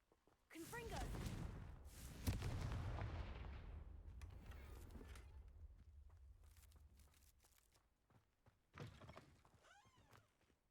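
A Confringo fire spell blasts in the Hogwarts Legacy video game: a loud, sudden explosive boom with a deep rumbling tail, a second hard hit a moment later, then the roar slowly fades, followed by a smaller thud near the end.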